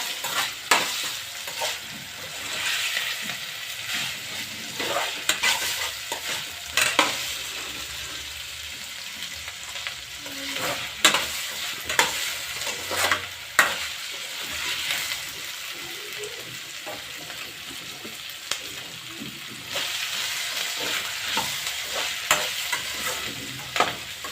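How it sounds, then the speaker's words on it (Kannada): Pasta browning in a pan at home, a steady close sizzle with frequent scraping and clattering strokes of a spoon stirring through it, no one speaking. "ಒಂದು ಸ್ವಲ್ಪ ಕಾಫಿ ಕಲರ್ ಬರೋವರೆಗೂ ಫ್ರೈ ಮಾಡ್ಕೋಬೇಕಂತೆ"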